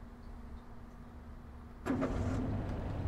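A farm truck in the Farming Simulator 22 game: low idle hum, then an engine starts abruptly partway through and keeps running louder with a steady rumble, no talk.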